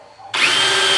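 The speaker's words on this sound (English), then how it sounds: "Drilling for the shower head." A power drill starts abruptly and runs at a loud, steady whine, drilling a hole for a shower head through the FRP and luan-paneled bathroom wall of a truck camper; close and alone.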